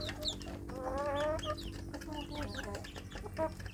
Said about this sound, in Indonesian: Jadi untuk anak ayam kampung saya ini baru ini hari kedua ya